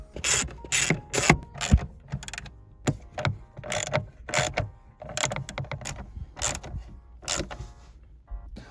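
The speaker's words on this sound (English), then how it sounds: "where you get to flip the ratchet to tighten" A car handbrake ratchet in a Hyundai Veloster N is flipped and turned to tighten, giving bursts of rapid clicking ratchet strokes in irregular groups, close and fairly loud, separated by brief pauses, with no talking.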